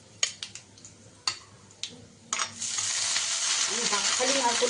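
Several sharp clinks of a utensil come first. Then grated coconut drops into hot mustard oil with five-spice, dried red chilli and bay leaf, and a loud, continuous sizzle sets in and carries on to the end.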